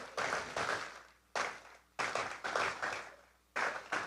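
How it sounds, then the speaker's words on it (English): An audience applauds the Prime Minister at the launch of an innovation hub, with several bursts of clapping that fade and swell again, fairly close and without talk. "another round of applause for the Prime Minister"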